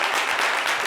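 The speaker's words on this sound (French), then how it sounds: "les amis, on peut applaudir pour taper" Brief burst of applause from a studio audience on a French call-in television show, moderately faint and continuous for under a second.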